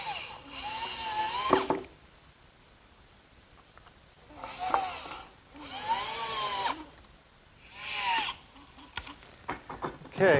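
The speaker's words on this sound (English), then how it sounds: "I'm ready to set this piece in place and fasten it to the frame with some screws" A power drill drives screws into a workbench frame in several separate whining bursts that rise and fall in pitch, with quiet pauses between them and brief clicks at the end.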